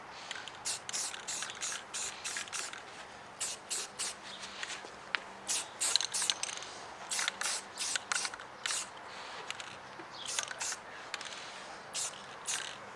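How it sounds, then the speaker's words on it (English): Repeated short hisses of a spray paint can painting a speaker's terminal cup area during a Yamaha S4115H restoration, irregular bursts of a second or less with brief gaps, close up. "I'm just going to spray paint where the terminal cup goes on the speaker"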